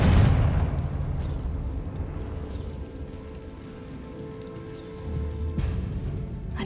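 A blasting spell erupts in a fantasy game, a loud deep boom up front that decays into a long rumbling, crackling tail, with a few faint sharp ticks and a second low thump near the end.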